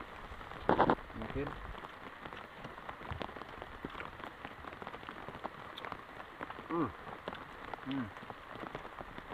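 Heavy rain falls as a steady, dense hiss and patter on surfaces throughout, with brief, faint voices talking over it now and then.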